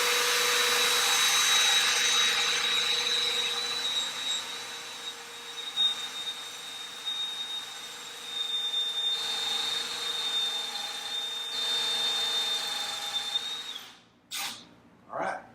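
A power drill bores into the rear leg of a wooden chair with a steady high whine that wavers under pressure, then stops, followed by a couple of brief knocks.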